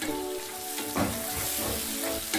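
Tomato paste with tomatoes sizzles and fries steadily in a pot for beef pilau, a close, continuous hiss with a brief stir partway through.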